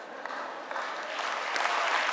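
A conference audience claps in a hall during a product-management talk, with steady dense applause swelling slightly toward the end and no voices over it.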